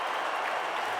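A stadium crowd at an AFL Gather Round 2024 match roars and applauds after Jack Ginnivan's goal for Hawthorn, a dense, steady wash of cheering from many distant voices.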